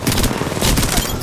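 Rapid bursts of automatic gunfire from the battle royale game Apex Legends, loud and close with repeated shots stacking into a fusillade, with a voice faintly mixed underneath.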